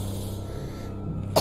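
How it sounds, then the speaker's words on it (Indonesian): An elderly woman coughs once, a short sharp burst near the end after a stretch of quiet low room hum. "Kayak suara batuknya nenek-nenek."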